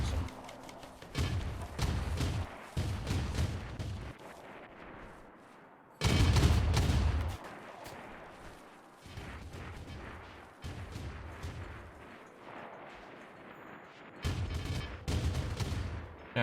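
Rapid bursts of 25mm autocannon fire in RimWorld, heavy thumping volleys repeating in clusters with short pauses, fairly loud and close.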